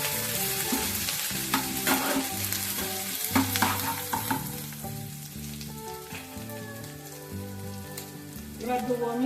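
Grated ginger and chopped green chilli added to frying onion and garlic for doi paneer, with a dense, crackling sizzle and spatula stirring, close and steady, while background music plays and no one speaks.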